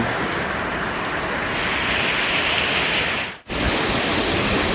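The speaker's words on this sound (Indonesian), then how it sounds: "Ini persis di bawah air terjun Coban dan Lembah Ayu." The Lembah Ayu waterfall at Pujon Kidul roars as a constant broadband rush of falling water, loud and close, with no voices, briefly cut by a split-second dropout near the end.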